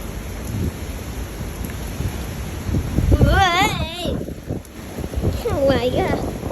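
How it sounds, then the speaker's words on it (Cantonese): Heavy rain and gusting crosswind roar steadily on a city street during a Hong Kong typhoon signal No. 9, with loud wind buffeting the microphone while a person speaks over the storm. "出面落好大雨"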